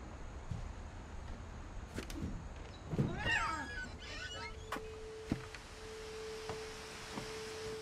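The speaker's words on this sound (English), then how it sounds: "Heard a cat?" Cat in the game What Remains of Edith Finch gives a brief, moderately loud meow amid scattered clicks and a thin steady electronic tone in quiet ambience.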